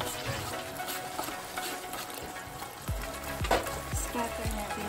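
Sliced onions frying in a pan for pork steak bistek in oyster sauce, giving a soft, continuous crackling sizzle with a few dull clanks of a utensil against the pan, fairly quiet and close.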